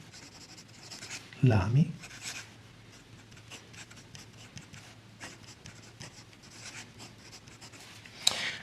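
A Lamy fountain pen with a broader nib writes with Peridot Crystal ink, giving a soft, steady scratch across paper that runs throughout, under close Italian speech, with a brief louder rub near the start.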